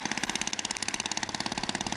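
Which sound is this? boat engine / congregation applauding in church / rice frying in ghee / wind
boat engine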